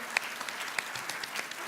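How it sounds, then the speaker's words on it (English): An audience gives a round of applause for a discussion panel at a film anniversary event, a brief, fairly faint patter of clapping hands with a few sharper claps standing out. "Let's give a round of applause to our panel"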